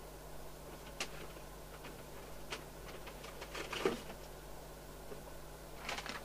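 A printer works with intermittent ticks, clicks and short mechanical whirs in a quiet room, fairly close, with a faint steady hum underneath.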